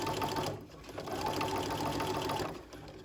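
Sewing machine running steadily while stitching a 1/4 inch seam down a fabric strip for spaghetti straps, a continuous close hum with a brief slowdown partway through.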